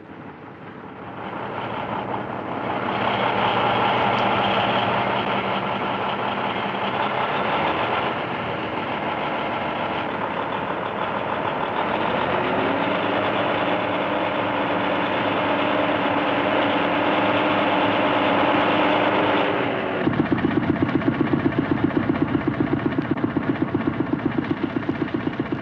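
A 1959 cement lorry engine runs at a steady, loud diesel drone with a deep hum, shifting pitch and gaining a harsher rattling pulse near the end, with no voices.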